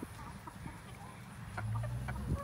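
Chickens clucking in their pen, a few short, scattered clucks and one drawn-out low cluck over quiet background noise, with no one talking.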